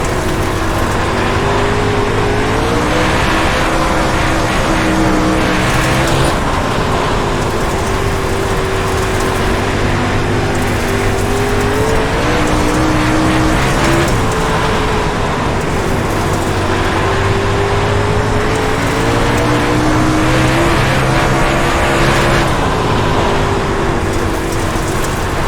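Dirt super late model race cars roar around Volusia Speedway Park in iRacing, a loud continuous engine drone with repeated pitch sweeps as the throttle rises and falls through the corners.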